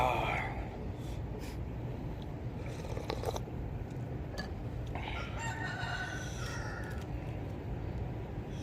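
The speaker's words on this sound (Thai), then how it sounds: "เสียไก่ขั้น" A rooster crows somewhere near a rural Thai or Lao home, a drawn-out call rising over constant background noise and murmured talk.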